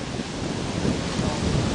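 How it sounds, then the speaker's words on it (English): Strong wind during a tornado roars over the microphone as a steady, loud rumbling gust with no break, close and harsh. "Dave, it's too windy over here."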